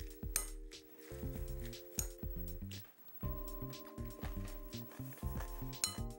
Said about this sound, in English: Just like how you would eat bibimbap, you mix all the ingredients together